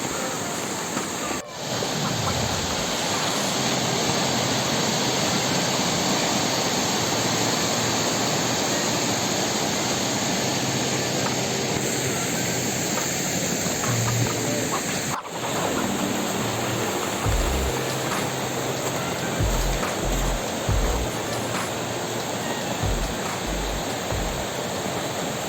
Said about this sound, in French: c'est la première cascade en arrivant par le bas